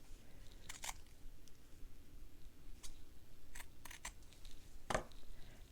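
Scissors snip through fabric pieces for a stitched gingerbread house, making a few quiet, crisp cuts scattered at irregular intervals, the last one slightly sharper.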